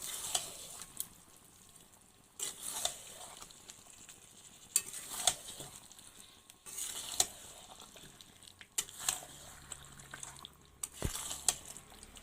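Spiced food with salt gets stirred in a pan, spoon strokes scraping at irregular intervals over a faint sizzle, with a sharp knock near the end.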